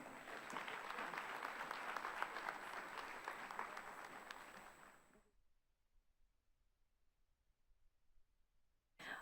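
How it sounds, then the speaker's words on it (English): Audience applause at a gender-gap partnership awards event, a dense steady clapping crowd for about five seconds that then cuts off into near silence, with a brief burst at the very end. "Another round of applause, please."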